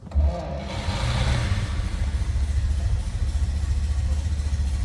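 A 1932 Buick 56S Special Coupe engine cranks by floor push-button start and catches, then settles into a steady, throbbing idle up close.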